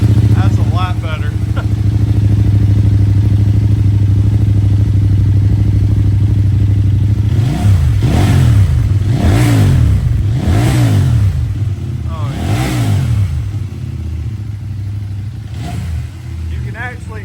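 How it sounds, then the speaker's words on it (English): CFMOTO IBEX 800 motorcycle fitted with a Yoshimura exhaust, revving repeatedly on a dyno: a steady loud idle rises into about five sharp throttle blips in a row, then settles back. A brief voice comes in at the start. "now we're going to let you hear just a good little sound clip of the Yoshimura on the IBEX 800"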